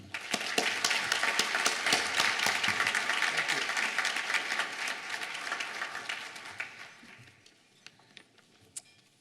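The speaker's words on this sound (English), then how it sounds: "Please join me in welcoming him with a round of applause." Audience at an alumni awards reception giving a round of applause, many hands clapping densely at first, then thinning into scattered individual claps as it fades out near the end.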